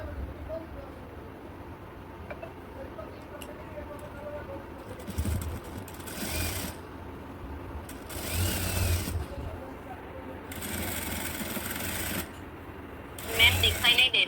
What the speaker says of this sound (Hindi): सिलाई लगाएंगे।